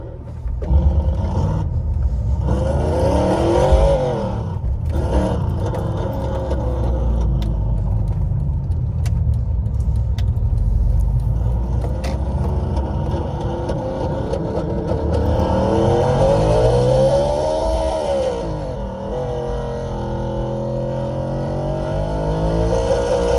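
Simulated Ferrari engine sound played from the RevHeadz phone app inside a car, loud and continuous, with repeated revs rising and falling in pitch, much like a race car accelerating and shifting.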